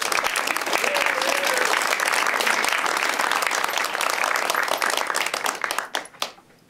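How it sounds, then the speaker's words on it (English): At a medical school white coat ceremony, the audience claps loudly and densely, a close, full round of applause with a few voices mixed in, tapering into scattered final claps near the end. "Let's have one more round of applause for all of you."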